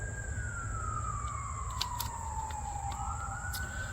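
Emergency vehicle siren wailing in the background, one long descending sweep that settles and then steps back up, steady and moderately distant over a low outdoor rumble.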